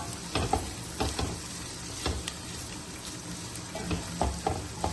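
Shredded chicken frying lightly in a pan, with a steady soft sizzle broken by repeated stirring scrapes and clicks of a utensil, close and moderately quiet.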